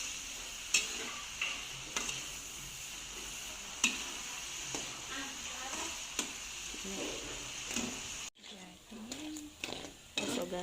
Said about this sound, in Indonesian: Jadi kita masak dia sampai betul-betul kering gurih.